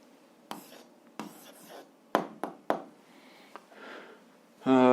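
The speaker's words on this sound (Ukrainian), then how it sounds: "записуємо відповідь, пишемо відповідь" A pen scratches out an answer by hand on paper while working an algebra exercise, with short separate strokes and soft rustles, close and quiet, then a brief tonal sound at the very end.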